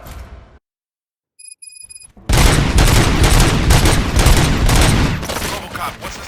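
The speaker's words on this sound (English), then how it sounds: "Gunshots? What's going on?" Dense, loud bursts of rapid gunfire from the video game Robocop Rogue City erupt after a brief silence and continue steadily to the end, with a short electronic chime sounding just before.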